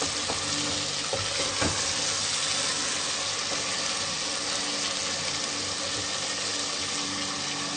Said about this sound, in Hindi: अब 5 से 6 मिनट हम इसको मजीद भूनेंगे। बहुत ही अच्छे तरीके से हम इसको भूनेंगे।